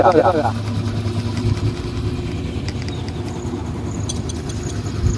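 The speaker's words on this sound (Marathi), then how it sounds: "ते बघा ट्रॅक्टर लावून काम करते" A tractor engine chugs and rumbles steadily nearby while ploughing a field, with a voice talking over it and some metallic clatter.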